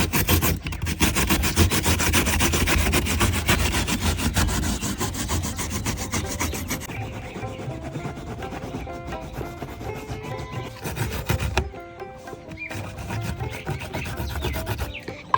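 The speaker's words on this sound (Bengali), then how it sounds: "এই যে দেখুন দেখতে দেখতে মিষ্টি কুমড়াটা সুন্দর মতন কুচি কুচি করে নিয়েছি মেশিন দিয়ে" Pumpkin being chopped finely in a kitchen machine gives a loud continuous grinding, rasping whir that shifts and drops briefly near the end before resuming, with no talk.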